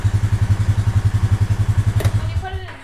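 A struggling machine engine runs close and loud, chugging in a rapid, even pulsing rhythm for a couple of seconds before it stumbles and dies away. A faint metallic clunk follows.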